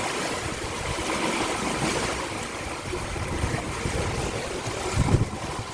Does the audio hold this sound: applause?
no